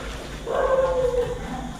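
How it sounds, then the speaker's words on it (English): A dog in or near an apartment lets out a single drawn-out, wavering cry lasting under a second, more a yelp or howl than a sharp bark, over a low background hum. "That was a dog barking."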